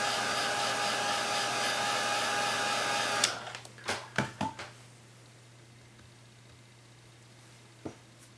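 A hair dryer blows steadily over acrylic paint on a Dollar Tree Halloween sign for about three seconds, then cuts off, followed by a few soft handling taps and quiet.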